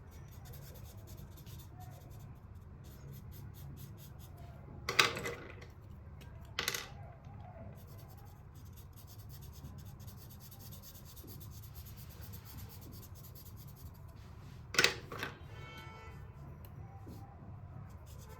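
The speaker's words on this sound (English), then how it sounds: "Okay, so now next we are going to be drawing in this portion" Ink pen drawing leaves on paper, faint continuous scratching and rubbing of the nib, with a few sharper taps and scrapes standing out now and then; quiet and close, no talking.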